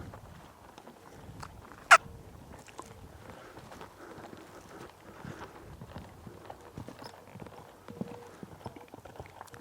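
A recovering horse with founder lopes along, its hooves giving a soft, rhythmic clip-clop at a moderate distance, with a single sharp click partway through and light background noise.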